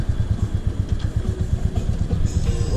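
Zontes X1 350 adventure motorcycle engine running close, a rapid pulsing low thump at steady rhythm with mechanical clatter, loud and continuous with no talk.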